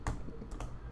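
A few quick keystrokes on a computer keyboard, close and soft, with a sharper key press near the start and another a half second later.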